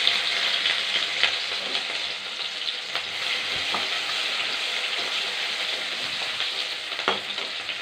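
Ginger and garlic frying in hot oil with mustard seeds in a kadai, a loud, steady, close hiss of sizzling with faint stirring clicks and no voice.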